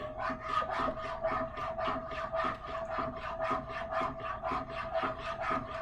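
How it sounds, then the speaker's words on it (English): Eggs whisked in a pan, a steady run of quick rhythmic scraping strokes, close and fairly quiet, with no talking. "So now I'm just whisking it."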